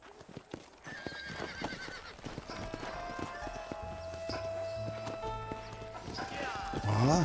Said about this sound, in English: Cadê meu cavalo?